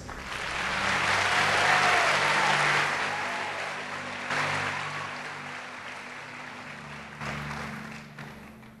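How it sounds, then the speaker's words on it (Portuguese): A church congregation applauding during a sermon: broad clapping swells, peaks, then gradually thins, over a low sustained organ-like hum. "Dê um aplauso, Jesus."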